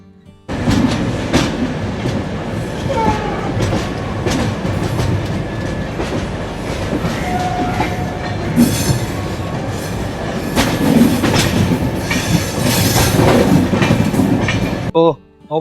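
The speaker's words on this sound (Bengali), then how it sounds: "কিছুক্ষণের মধ্যে স্টেশনে ঢুকে যাবে।" A train pulling into Visakhapatnam station, heard from on board: loud continuous rumble with rhythmic clickety-clack of wheels over rail joints and occasional faint squeals, sustained for about fifteen seconds before cutting off.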